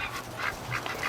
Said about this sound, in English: Crazy ducks.